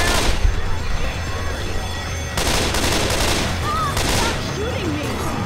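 Dense, sustained gunfire from a Left 4 Dead 2 multiplayer campaign on Xbox One, a steady loud barrage of rapid shots running through the whole stretch with game chatter mixed in.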